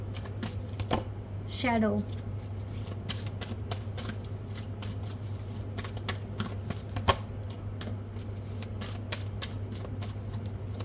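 Tarot cards are shuffled close by in quick, papery riffles and taps beneath a constant low hum, while a person speaks briefly near the start.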